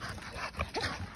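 A dog gives short, high whimpers and a yip or two up close, a quick fidgety run of small cries without any speech.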